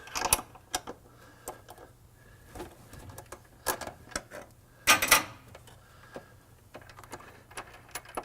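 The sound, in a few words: wrench backing off threaded bushing bolt on Mustang frame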